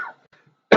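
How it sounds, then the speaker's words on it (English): A single sharp, close cough bursts out at the end after a brief quiet throat sound, loud and harsh. "There's something else causing that coughing."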